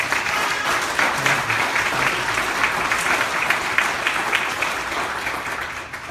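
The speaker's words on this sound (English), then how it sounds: "And give them a round of applause." A crowd applauds cancer survivors at a hospital foundation fundraising event, a long, steady round of clapping with a few louder claps near the end.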